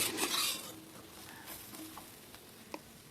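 Egg and greens stir-fry with drumstick leaves and another leafy green being stirred in a pan, bringing a burst of scraping and clattering at the start, then softer scattered taps of a utensil against the pan.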